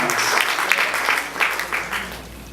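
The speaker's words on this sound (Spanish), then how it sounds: "Denle un aplauso al Señor." A church congregation applauds throughout a Spanish-language service, a steady wash of many hands clapping filling the room, loud and continuous without breaks.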